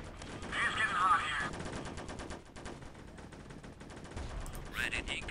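War video game battle with rapid machine-gun bursts and scattered gunshots, dense and continuous at mid distance, with brief speech mixed in.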